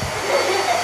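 A Hoover vacuum cleaner runs close by with a loud, steady whirring roar that holds for the whole short stretch, with no talking over it.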